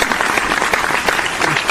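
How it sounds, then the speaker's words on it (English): A room full of people gives a big round of applause for a sports podcast guest, brisk clapping that holds steady and fairly loud throughout, with no talking over it. "So give the man a big round of applause."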